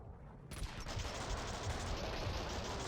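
Sustained burst of AK rifle fire in Max Payne 2, starting after a half-second of near silence and continuing as dense, loud, rapid shots with no pause to the end.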